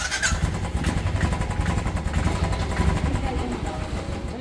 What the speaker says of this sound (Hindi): हम निकल रहे हैं अपनी बाइक को थोड़ी सर्विस कराने